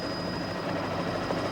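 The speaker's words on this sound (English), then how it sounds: "the Newcastle rescue helicopter was called in and a crewman was lowered to aid the stranded man" A Newcastle rescue helicopter flies over a flooded area, its rotor and engine a steady droning roar holding at an even level throughout, with no speech.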